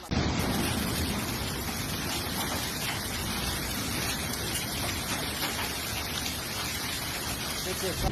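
A hail storm in Florida pounds down in a dense, steady roar of hard ice striking surfaces, loud and continuous throughout with no pauses.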